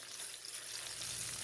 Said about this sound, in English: So my garlic is frying here.